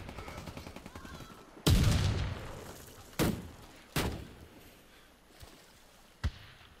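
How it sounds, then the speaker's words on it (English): Suppressed Desert Tech MDRX submachine gun fire in a video game: a loud muffled burst, then several sharp single reports spaced about a second apart, fading to softer distant pops. "Oh my god, this gun sounds amazing with the suppressor."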